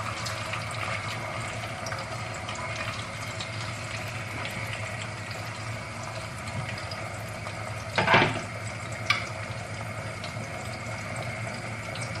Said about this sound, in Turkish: patateslerimi kızdırmış olduğum yağın içine atıyorum